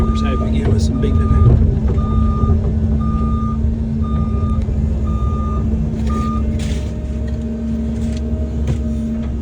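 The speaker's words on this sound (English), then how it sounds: "Make the neighbors happy again with some beeping" A Cat 309 excavator's reversing alarm beeps in a steady repeating rhythm over the low engine rumble, loud and close on a job site.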